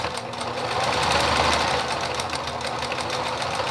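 A sewing machine back stitching the seam of a rice-filled sachet, a steady, close, buzzing run of rapid stitches that holds continuously with no pauses.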